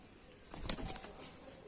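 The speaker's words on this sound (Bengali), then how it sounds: "এই হচ্ছে নর পায়রা" A caged male pigeon, one of a fancier's champion birds, gives a single short, soft coo partway through. Faint room noise surrounds it.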